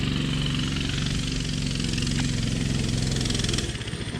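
A small mini bike engine idles loud and close with a steady, buzzing putter that dips slightly near the end.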